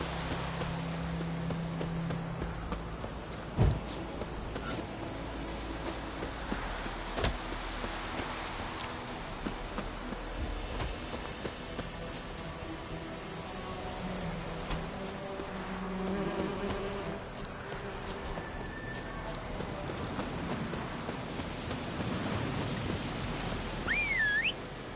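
In the Witcher 3 video game, a horse's hooves clip-clop at a steady trotting rhythm over a constant buzz of insects and outdoor ambience, with a brief whistle near the end.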